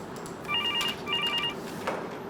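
A telephone rings with two electronic trilling bursts at a steady cadence, moderately loud over a quiet room, followed by a brief click.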